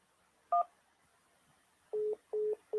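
Telephone keypad tones sound during a call to a voicemail menu: one short beep, then after a pause three steady evenly spaced beeps, clear and alone with no talking.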